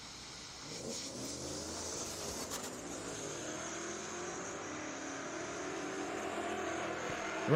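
A drag race car, a 1992 Mustang, rolls slowly down a racetrack, its engine a steady, moderate drone held at a distance that swells a little toward the end, with no one speaking.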